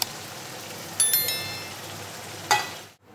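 Yogurt-marinated mutton tipped all at once into hot spiced oil, giving a soft steady sizzle with two sharper hissing bursts as the meat lands and is stirred, then falling quiet at the end.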